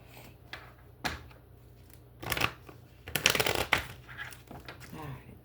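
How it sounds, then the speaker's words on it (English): Tarot cards shuffled by hand, several quick riffling and rustling bursts with soft handling noises in between, heard close and moderately loud. "let's get these shuffled here"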